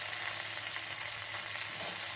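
Vegetables fry with ginger-garlic in a kadai, giving a steady, dense close-up sizzle and hiss with faint stirring underneath, continuous and unbroken for the short stretch.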